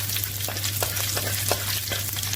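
Spices frying in hot oil for Sri Lankan style lamb rice, a steady close crackle and sizzle with scattered pops over a low constant hum.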